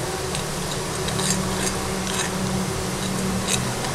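Homemade hair oil is gently stirred in a pan over a low flame, a soft continuous sizzle with light scraping of the spoon at a slow, even pace, close and without talking.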